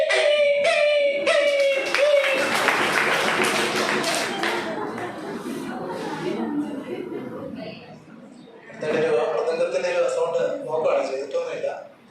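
A voice imitates a dog's pained yelping after being struck, in sharp, high, repeated cries, with other voices and clattery noise in between.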